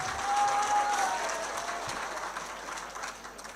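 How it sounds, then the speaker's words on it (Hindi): Audience applause at an Urdu poetry mushaira, a dense, steady wash of clapping from a crowd that holds for a few seconds and slowly thins. "तालियां बजा दे आप पहले एक बार।"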